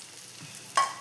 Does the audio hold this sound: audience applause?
no